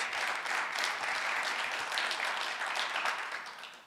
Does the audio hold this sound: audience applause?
yes